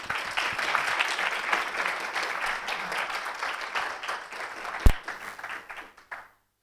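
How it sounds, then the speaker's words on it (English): An audience applauds a speaker at a category theory lecture, dense steady clapping from a crowd that holds for several seconds, then tapers and stops abruptly. "So please, an applause for Bartosz."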